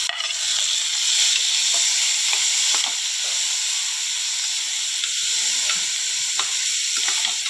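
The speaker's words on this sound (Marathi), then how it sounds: "आता मी टॉमॅटो टाकते टॉमॅटो कापून घेतला आहे टॉमॅटो टाकते मी आता" Chopped tomatoes hit hot oil with onions in a pan for paneer bhurji, giving a loud, steady close sizzle and hiss with faint stirring taps throughout.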